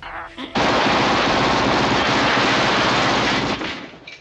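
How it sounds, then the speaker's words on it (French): Automatic gunfire from the Chuck Norris action film Invasion U.S.A.: a loud, dense, continuous burst lasting about three seconds after a brief lead-in, then tapering off. "Rostov tire dans la direction de Chuck Norris."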